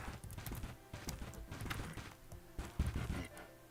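Horse hooves clip-clop in the Bella Sara video game, a series of quiet, uneven hoof thuds with a bigger thump near the end, set against soft game ambience.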